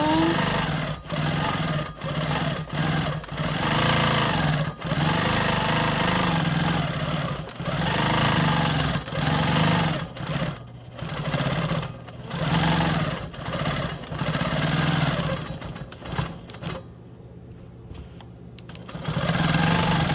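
A Quilt Maker Pro 20 quilting machine stitches free motion swirls, its motor humming in steady pulsing bursts with short pauses and speed changes, then a brief quieter stretch before it runs again.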